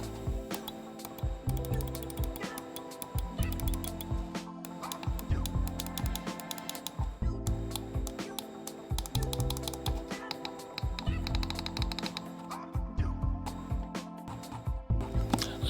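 VGN Dragonfly F2 Ultra gaming mouse with a metal, likely aluminum, scroll wheel: rapid close-up clicking and ratcheting scroll ticks come in bursts with brief pauses, steady and crisp with no speech.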